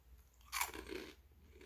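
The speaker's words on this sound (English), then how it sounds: "crunching through a Frito" A single crisp crunch of a Frito corn chip being bitten near the mouth, followed by a brief soft chewing rustle, quiet and alone.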